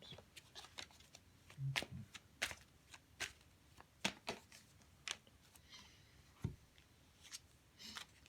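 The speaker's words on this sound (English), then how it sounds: "And I pull some angel cards." Angel cards being shuffled by hand give a quiet, irregular run of crisp flicks and snaps close up, with scattered sharp clicks across several seconds and no talking.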